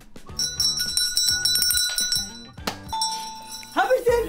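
Bell rung repeatedly by a player during a blindfolded Nerf gun challenge, sharp ringing strikes in quick bursts with clinks and thunks, mixed with voices.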